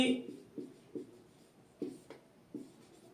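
Pen or pencil scratching on paper while handwriting a definition, a series of short strokes at an uneven rhythm, close but soft.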